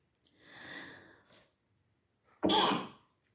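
Two sneezes from a dust allergy, the first a drawn-out breathy one, then a sharp loud burst after a brief pause, both close, with no talk over them.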